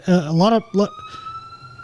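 An ambulance siren holds a steady high tone after a few quick spoken words, continuing at moderate volume behind the fading talk.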